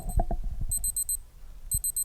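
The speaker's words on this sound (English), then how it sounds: "there goes our alarm from the Casioak." A Casio G-Shock GA-2100 watch sounds its alarm in short, high, bright beep bursts, one group of four and another of three. Soft handling knocks and clicks come between the bursts, and no one speaks.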